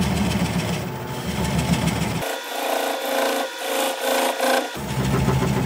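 Half-inch swept-back bowl gouge cutting into hard end-grain root ball wood on a lathe, a steady scraping, rasping hiss with a louder rhythmic pulsing middle stretch as the tool bites, close and continuous with no talking.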